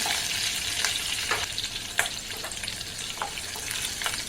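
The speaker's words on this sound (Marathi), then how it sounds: "या तेलामध्ये आपण मिरचीसुद्धा भाजून घ्यायची आहे" Chana dal, urad dal and green chili fry in hot oil, giving a steady, close sizzling hiss with occasional sharp spatters and light clinks of stirring throughout.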